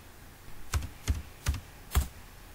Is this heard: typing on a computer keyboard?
yes